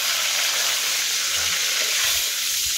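Bay leaves fry in hot mustard oil, a steady close sizzle and crackle that holds evenly throughout, with no voices.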